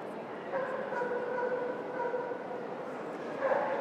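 Small dogs at a dog show, long-coat and smooth-coat chihuahuas and a Pomeranian, yip and whimper in a continuous high, busy chorus over hall background, with a louder burst near the end.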